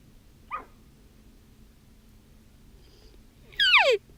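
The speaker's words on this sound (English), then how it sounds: "the elk was barking once in a while" A short high call from an elk sounds once faintly, then a louder squealing bark with a descending whistle follows a few seconds later, distant over quiet outdoor background in Colorado.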